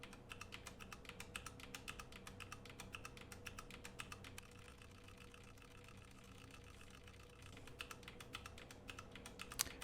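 Faint, fast, steady key clicks come from a Ducky One 2 Mini mechanical keyboard with faulty keys that double-click, its switches sold as knockoffs of Cherry MX Reds, with a low hum underneath and no talking.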